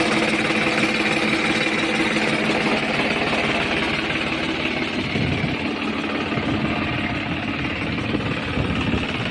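A tractor engine in good running order with a new battery idles steadily and evenly, a continuous close mechanical chug with no other sounds, for about nine seconds.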